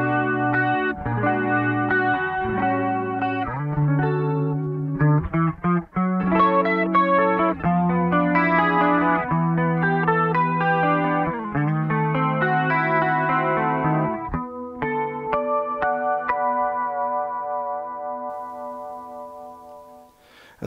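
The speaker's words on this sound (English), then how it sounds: "It's got three really, really cool classic chorus sounds." An electric guitar runs through a BOSS CE-2W Waza Craft chorus pedal in CE-2 mode, playing clean chords and melodic lines with a lush, wavering chorus shimmer, then ending on ringing notes that fade out.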